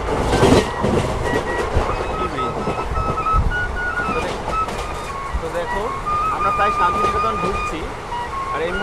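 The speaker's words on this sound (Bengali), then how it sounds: "এটা কিন্তু শিয়ালদা নিউ দিল্লি রাজধানী এক্সপ্রেস" Sealdah–New Delhi Rajdhani Express pulling into a station, a steady rumble of rail cars with wheel clatter and squealing brakes, while people talk nearby.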